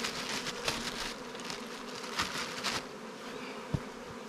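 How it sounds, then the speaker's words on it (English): Honeybees buzzing in a freshly installed hive box, a close, continuous dense hum with small flickers and a soft knock near the end, nothing else audible. "now we've got a box full of bees"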